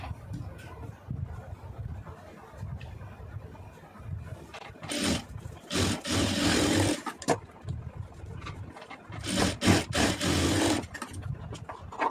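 A sewing machine stitches a fabric mat in uneven bursts, its motor whirring loudly in short runs with pauses and fabric handling between them.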